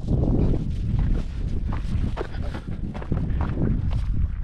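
Gusty wind buffets the microphone in heavy rumbling bursts, loud and close, with no voices.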